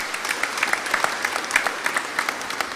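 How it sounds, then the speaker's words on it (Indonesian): A church congregation applauds couples renewing their wedding vows during Mass, a steady, full clapping from many hands filling the room for a few seconds. "Mari kita beri aplaus untuk mereka semua."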